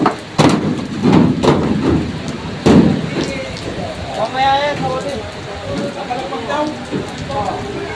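Rain falls on a surface at an outdoor livestock auction market in Lucena, Quezon, a steady hiss with a few sharp knocks near the start, while people talk nearby.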